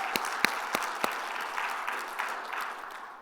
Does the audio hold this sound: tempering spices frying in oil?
no